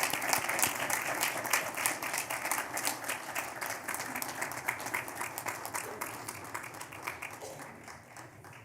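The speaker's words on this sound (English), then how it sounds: "Let's give him a big round of applause" Audience applause at a school district board meeting honoring a high school senior with the President's Award, steady dense clapping throughout that gradually tapers near the end, with no talking over it.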